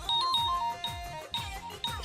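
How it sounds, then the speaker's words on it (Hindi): A phone rings repeatedly with a bright electronic two-tone chime, looping steadily and fairly close. "फोन क्यों बजते जा रहा है?"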